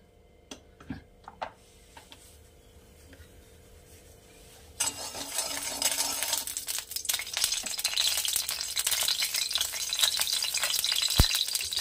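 A spoonful of mustard oil for tempering hits a hot pan partway through, bursting into a loud, steady sizzle and crackle after a few quieter clinks and taps, with no talk.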